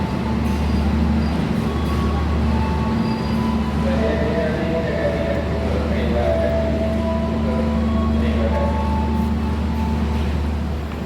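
Economy-class KA Jakatingkir train bound for Jakarta, standing before departure on a night trip from Yogyakarta: a steady loud low rumble and hum fills the whole stretch, with faint tonal whines and people talking in the background.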